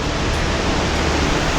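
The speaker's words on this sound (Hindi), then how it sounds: "एक झरना दिखाई दे रहा है। ये झरना हेमकुंड साहिब से आता है।" A Himalayan waterfall flowing down from Hemkund Sahib in Uttarakhand pours in a continuous broadband roar, loud and steady throughout with no voices.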